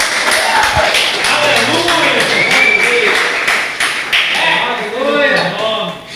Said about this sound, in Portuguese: Aplaude a Ele.